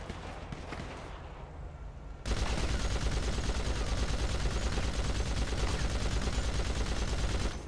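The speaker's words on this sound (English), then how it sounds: "we're having a shootout right now" Gunfire erupts during a police shootout with a suspect on a second story: after a short stretch of noisy background, a dense, loud, continuous barrage of rapid shots fills the rest of the clip.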